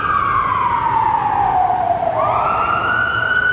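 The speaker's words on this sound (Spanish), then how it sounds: "Camión de bomberos." Fire truck siren wailing loud and close, a single long tone sliding steadily downward before jumping back up and holding, with no talk over it.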